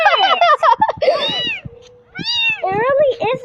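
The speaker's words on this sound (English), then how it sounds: "See, it's a kitten." Newborn kittens mew repeatedly in high, wavering cries up close, overlapping with a voice talking nearby.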